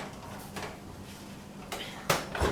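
A pizza goes into a 475-degree Fahrenheit oven, with faint rustling followed by a couple of close metallic clunks from the oven door and rack.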